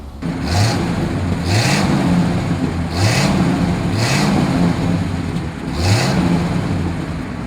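A 1941 Buick Super 50 Phaeton four-door convertible on a test drive, a steady mid-pitched engine drone under road rumble, with a quick rising surge repeating roughly every second and a half.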